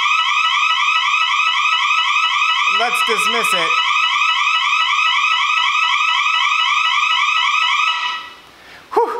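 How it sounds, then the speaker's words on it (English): A Konnected and SmartThings home security siren blares as a loud, steady, pulsing electronic alarm that runs for about eight seconds and then cuts off. A voice speaks briefly over it, and there is a short sound after it stops. "And the siren's going off."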